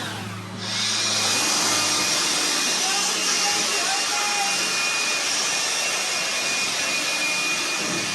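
A blower roars loud and steady while cleaning sanded round logs inside a Montana homestead log house, rising in after a brief quieter start and holding constant to the end.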